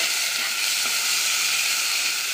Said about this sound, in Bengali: এবার মশলাটা একটু ভাজা ভাজা করে নেব।